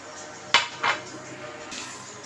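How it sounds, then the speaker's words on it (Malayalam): Soaked fenugreek seeds drop into a steel mixer jar with two quick metallic clinks close by, then a low steady background hum. "ഇനി നമുക്കത് മിക്സിയുടെ ജാറിലേക്ക് ഉലുവ ഇട്ട് കൊടുക്കാവേ."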